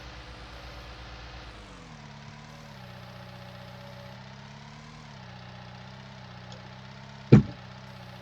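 A wheel loader engine idles in a farming video game, a low steady hum that shifts pitch a couple of times, ending with a sharp single knock near the close.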